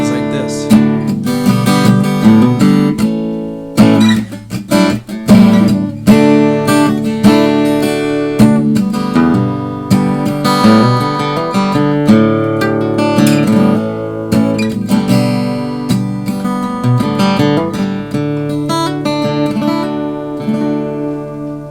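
Acoustic guitar played through a BOSS AD-10 acoustic preamp with the EQ switched off, strummed chords and picked notes ringing steadily and continuously, close and full, no talking.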